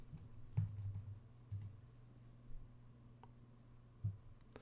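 Quiet typing on a computer keyboard while entering a web address, a few sparse key taps spread over several seconds, close but faint against a low hum.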